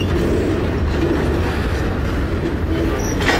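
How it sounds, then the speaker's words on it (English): A freight train carrying CSX cars rolls past close by on the Genesee & Wyoming line, a loud continuous rumble and roar of wheels on rails with a brief high squeal near the end. "There goes the first train."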